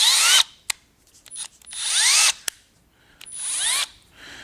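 A Milwaukee M12 cordless two-speed drill/driver spins up in three short bursts, each a close, high whirring whine that rises and cuts off, separated by brief clicks and quiet pauses.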